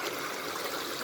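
A steady rushing wash of flowing water from a river where people do laundry, continuous and fairly near, with no voices.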